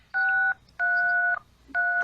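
A telephone being dialed: three distinct touch-tone beeps of dual pitch, the first short and the next two longer, loud and close with quiet gaps between and no voices.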